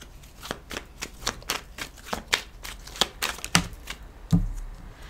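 Tarot cards being shuffled and dealt in a rapid, crisp run of papery riffles and snaps, close and fairly loud, with no talking.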